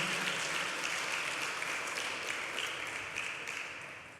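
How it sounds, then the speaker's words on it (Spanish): A church congregation applauds steadily at a fairly quiet level, the dense clapping holding for about four seconds before it stops abruptly at the end, with no voices standing out. "Den un aplauso y póngase de pie"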